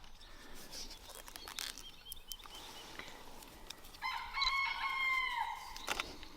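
A rooster crows once, a drawn-out, harmonic call rising over quiet outdoor background during spring grafting work, with scattered small clicks and taps.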